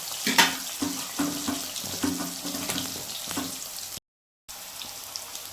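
Black cumin seeds spitting and crackling in hot oil for a thin Bengali fish curry, a run of sharp pops and sizzle up close, fading toward the end after a short break in sound.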